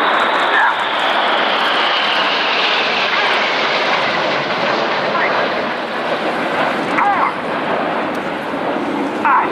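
A Red Arrows jet performing the battle break roars past at an air show, a loud sustained broadband rush of engine noise that swells slightly and stays dense throughout.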